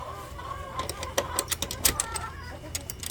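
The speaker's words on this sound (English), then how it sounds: "They are the happiest chickens you will ever meet." Chickens in a backyard coop cluck and squawk in short, close bursts, irregular and overlapping, over a low rumbling outdoor background.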